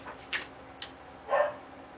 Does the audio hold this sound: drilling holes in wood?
no